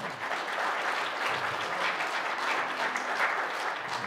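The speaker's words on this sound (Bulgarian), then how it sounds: "искам да помоля за вашите аплодисменти за Красимир." Steady applause from an audience at a conservative debate club event fills the whole stretch, dense and even, with no voices over it.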